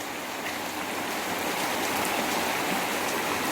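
Heavy rain pours down steadily, a dense continuous hiss of drops with no pauses and no voices.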